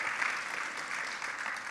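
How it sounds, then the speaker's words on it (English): An audience at a leadership meeting at an expo in Las Vegas gives a brief, steady round of applause, heard from some distance and fairly soft. "Let's give ourselves a round of applause for counting the blessing that we can still be here in"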